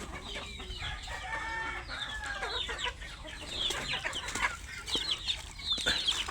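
Several caged chickens cluck and chatter together at close range, with a rooster crow rising among the busy overlapping calls.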